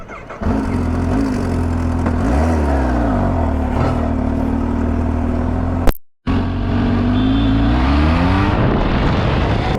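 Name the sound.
superbikes riding on the road to Chakrata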